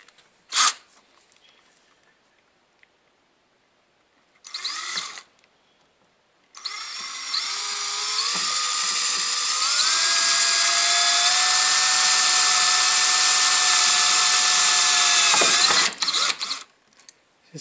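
A power drill bores a hole in a motorcycle for mounting a horn: a few brief bursts of spinning first, then one long, loud whine that climbs in pitch and holds for around nine seconds before stopping.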